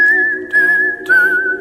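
A girlfriend whistles a Disney tune at Disneyland, a clear, close melodic whistle in two phrases with a short breath between them and no talking.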